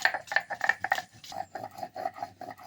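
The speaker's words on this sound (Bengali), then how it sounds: "লঙ্কাটা খুব ভালো করে বেটে নিচ্ছি।" Green chillies are ground into a paste by hand on a grinding stone for a Bengali taro root curry, with rhythmic rubbing and knocking strokes repeated in quick succession, close and clear.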